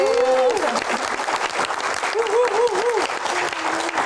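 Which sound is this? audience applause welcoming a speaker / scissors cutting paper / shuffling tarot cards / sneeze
audience applause welcoming a speaker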